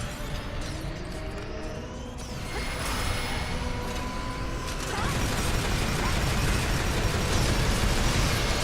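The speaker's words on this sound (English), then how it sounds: "It does more damage than the other rocket launcher, bar none, because of how many rockets it shoots." In the EDF video game, a rocket launcher fires a rapid volley of many rockets, with rattling mechanical bursts, pops and whooshing streaks that build into a dense, loud barrage.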